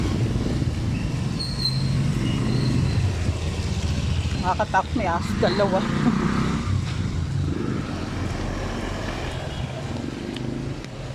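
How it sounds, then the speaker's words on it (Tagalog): Tricycle ride through gusty rain, the motorcycle engine droning steadily close by with road and wind noise, while people talk over it throughout. "sakay kami ng tricycle"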